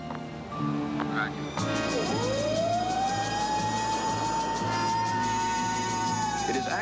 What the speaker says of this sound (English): Ed, would you give us a short blast on the siren?